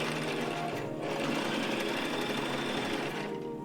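A sewing machine stitches through thick fabric, a steady close mechanical whirring that runs without a break, with no voices.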